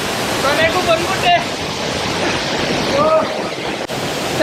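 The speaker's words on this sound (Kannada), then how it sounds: "ರಾತ್ರಿಯಲ್ಲಿ ವಾಟರ್ ಫಾಲ್ಸ್ ನೋಡಕ್ ಬರೋದೇ ಆನಂದ." Steady broadband roar of a waterfall after dark in an Indonesian monkey forest, continuous and fairly loud, with a few faint chirping calls rising briefly above the rushing water.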